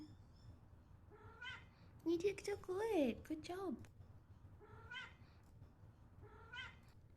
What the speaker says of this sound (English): I want to hear that meow again